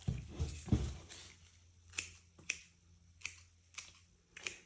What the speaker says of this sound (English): cutting tubers off here